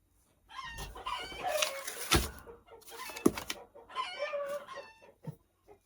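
A chicken clucks and crows in a series of loud, close calls with short pauses between them, sounding from a home crafting space.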